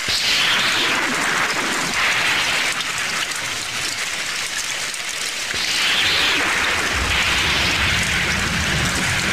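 Steady heavy rain pours down, a dense hiss with surging waves of loudness, close and continuous throughout.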